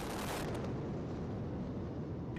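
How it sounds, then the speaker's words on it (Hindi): A deep, sustained explosive roar from the demolition of twin tower buildings with 3,700 kg of explosives rumbles on for a couple of seconds, broadband and heavy, like a massive blast with debris thundering down. "कैसे धमाके के साथ ही ट्विन टावर ताश के पत्तों की तरह ढेर हो गया"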